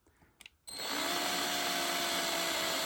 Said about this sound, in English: Nice thing about using a drill is you can turn it in reverse.